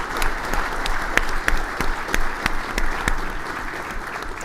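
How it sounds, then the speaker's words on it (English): Audience applause at an ACM 75th anniversary event for the program committee: a steady wash of clapping with sharp individual claps standing out, sustained at even loudness throughout. "Please give our ACM 75th Program Committee a round of applause."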